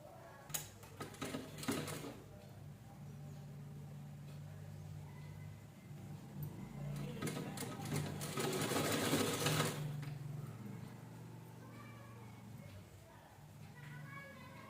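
An electric sewing machine stitches a two-colour purse of canvas on one side and blouse fabric on the other, running in two bursts of rapid, whirring stitching with quieter handling and faint voices between.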